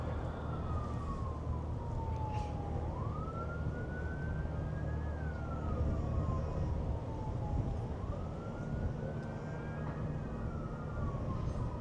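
A wailing siren rises and falls slowly in long sweeps, distant but clear over steady road noise, heard from a cruise ship pulling into port at Nassau.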